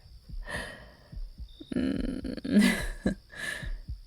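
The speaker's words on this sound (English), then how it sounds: "I can hear your heart beating faster" Soft, low thumping pulses repeat at a steady rhythm, close and muffled, with breathy rustling noises between some beats.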